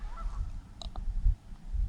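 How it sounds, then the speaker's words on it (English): Two short geese honks sound in quick succession at a distance, over low rumbling outdoor background noise at a state park campground in fall. "I hear geese."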